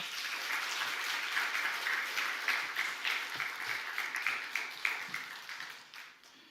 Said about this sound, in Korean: 우리 전재현 목사님 앞으로 나오실 때 우리 박수로 맞아 주시기 바랍니다